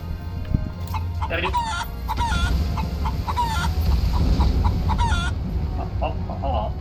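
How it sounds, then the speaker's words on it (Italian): A chicken clucks repeatedly in the video game Final Fantasy XIV, with rhythmic loud calls and a crow-like note over steady game background sound. "Però è sempre una gallina."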